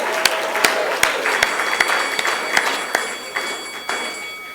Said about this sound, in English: Round of applause for Kochi.